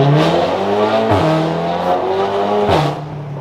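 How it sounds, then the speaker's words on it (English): VW Golf R MK7 engine accelerates hard, loud and close from inside, the pitch climbing steadily then dropping sharply at each of two upshifts before climbing again. "the car's so loud, I don't know when you can hear me and when you can't"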